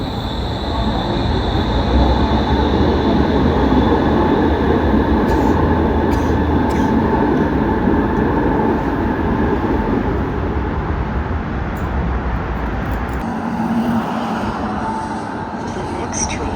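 A Toronto Eglinton Crosstown light rail train rumbles steadily along with a continuous low roar and faint rail squeal, heard from inside the car; a voice makes an announcement over the noise.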